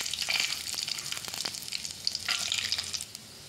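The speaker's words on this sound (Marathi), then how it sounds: "थोडे शेंगदाणे भाजत आहे" Peanuts roast in hot oil in a wok already seasoned with crackled mustard seeds and cumin, giving a steady close sizzle and crackle, stirred now and then, with no voices.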